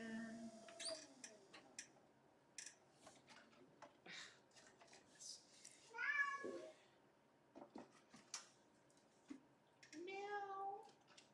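A pet cat meows indoors in a couple of short bursts with harmonic rises, near and moderately loud, between scattered household clicks and taps.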